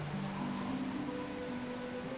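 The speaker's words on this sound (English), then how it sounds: "Thankfully, it's raining," Steady rain falls outdoors around a small town, a constant broadband hiss of drops on surfaces holding at an even level throughout, with a faint low tonal hum underneath and no talking.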